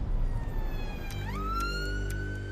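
An ambulance siren wails close and loud, its tone sweeping upward to a steady high pitch over a low rumbling engine, heard alone.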